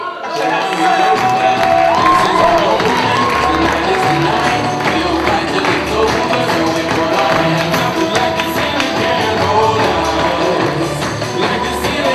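A slam poetry audience applauds and cheers a poet, a loud sustained wash of clapping mixed with crowd voices and whoops that carries on throughout.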